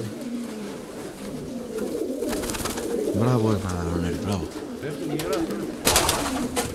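Racing pigeons cooing and fluttering nearby, with a few clearer calls over rustling and wing flaps, while someone speaks at times.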